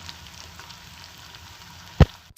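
Sliced onions fry in hot oil with curry leaves until brown, giving a soft, steady sizzle with a single sharp knock near the end.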